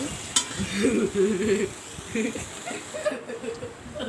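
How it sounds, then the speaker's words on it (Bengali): Onion, chilli and ginger fry in oil in a kadai for khichuri, giving a soft sizzle with stirring scrapes and light utensil knocks while a voice talks over it. "প্রথমে তে কড়াইতে তেল মরিচ আর পেঁয়াজ মরিচ আদা এগুলো দিয়ে ভালোভাবে ভেজে নিয়েছি"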